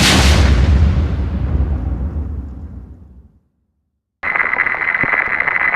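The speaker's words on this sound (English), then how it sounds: "What, an explosion this late in the video?" Satchel charge explosion sound effect: a loud, deep, roaring blast that decays over about three seconds into silence, followed by a steady electronic hum.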